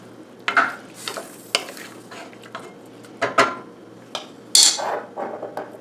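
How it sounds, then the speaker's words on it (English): Canned green beans stirred with softened onions in a pan, a utensil scraping the bottom in several distinct bursts amid a low sizzle, close and fairly loud, with no voices. "Stir them around, scraping the good stuff off of the bottom of the pan."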